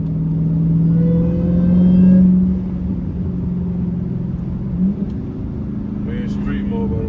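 An 800 horsepower Dodge Hellcat drones from inside the cabin, a low steady engine tone that swells briefly then settles into a cruising rumble, with a voice talking over it.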